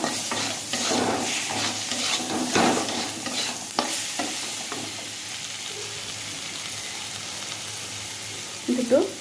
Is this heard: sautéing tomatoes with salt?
yes